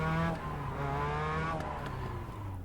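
Race car in a sim racing game, engine revving high under acceleration then dropping sharply in pitch as it brakes, a quick rise-and-fall sequence heard clearly without any speech.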